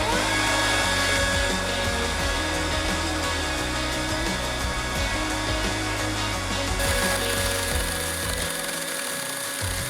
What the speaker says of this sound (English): we're using the electric chainsaw to trim down the posts so we can install the rail system